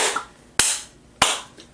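Hand claps from a single person: two sharp, loud claps about half a second apart with a quieter tap before them, heard alone.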